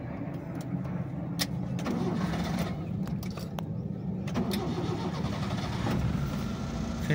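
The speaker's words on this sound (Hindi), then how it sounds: "फिर से गाड़ी स्टार्ट हो चुकी है" Maruti Eeco van engine starting on gas fuel, a cranking catch with clicks followed by a steady mid-pitched running note, heard close with background noise.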